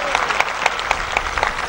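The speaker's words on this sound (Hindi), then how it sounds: "एक बार जवानों के लिए तालियां बजा दीजिए" Loud, close applause from a crowd at an outdoor political rally in Mainpuri, Uttar Pradesh, with rhythmic clapping peaks running together for a couple of seconds.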